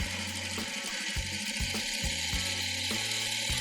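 A sewing machine stitches across fabric, a quilting piece for a crumb star block, in short rhythmic bursts of close, fast mechanical chatter that stop and start several times.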